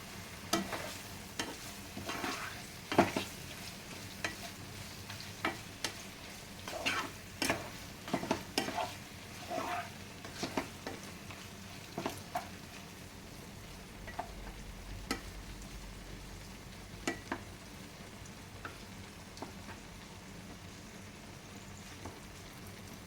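Chicken curry frying in a pan as a semi-dry fry, with a steady close sizzle under repeated sharp clinks and scrapes of a spoon stirring, busy early on and then sparser.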